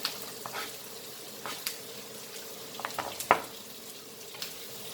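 Green chilies and onions fry in a pan, a quiet continuous sizzle broken by several sharp spatters and crackles, one louder pop standing out near the end.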